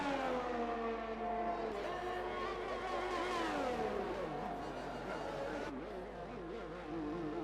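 McLaren race cars in a sim racing game at the Belgium round howl close by, engine pitch climbing and dropping through gear changes in a continuous, fairly quiet wash of racing engine noise.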